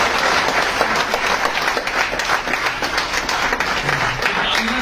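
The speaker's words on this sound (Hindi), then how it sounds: "एक बार जोरदार तालियां बजाएं।" A crowd at an award ceremony in Udaipur applauds strongly, with dense, continuous clapping throughout and a voice speaking faintly beneath it near the end.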